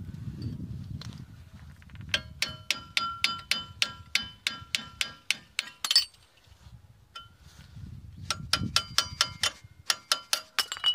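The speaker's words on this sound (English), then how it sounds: "These are a bit stuck on, so I've used a chisel here to tap it off" A chisel taps off stuck front brake pads on a 2007 Daihatsu Sirion, making two runs of rapid, sharp metallic clinks up close, with brief pauses between bursts.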